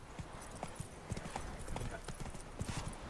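Hooves of the horse Roach in The Witcher 3 video game, a steady clip-clop of galloping or trotting under a busy game soundscape, with a voice speaking briefly.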